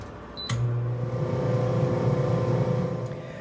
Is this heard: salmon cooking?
yes